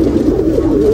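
A pigeon in a new loft gives a loud, close, low rolling coo that lasts less than a second, with steady background noise.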